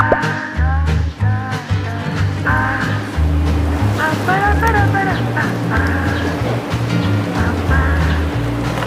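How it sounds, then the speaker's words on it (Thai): An electric mixer beats durian cream into cheesecake batter with a steady motor drone whose pitch shifts as it works, while someone talks over it. "แล้วตีต่อให้เข้ากันค่ะ"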